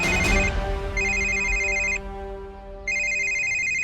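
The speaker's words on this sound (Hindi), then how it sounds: "मनोज भी फोन कर करके परेशान कर रहा है।" A mobile phone ringtone for an incoming call, a bright electronic melody that plays in two repeated bursts separated by a short pause, loud and close over a low background hum.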